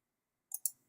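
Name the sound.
mouse click with Option key held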